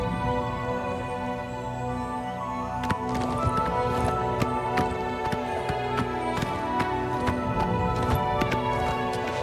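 Horse hooves clip-clop steadily in the video game Oblivion Remastered, a continuous rhythmic clatter of hoofbeats over dense ambient game sound, moderately loud throughout.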